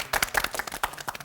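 A small group applauds contestants at a challenge-show selection event, with brief, close, uneven clapping of about a dozen sharp hand claps in quick succession, no voices over it.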